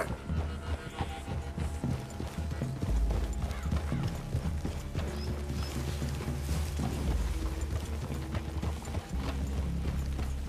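Several horses walk in Red Dead Redemption 2, their hooves clip-clopping in an uneven rhythm close by, with an occasional snort or whinny and game ambience underneath.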